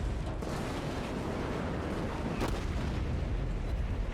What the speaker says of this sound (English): There's one of my 3 secondary guns firing.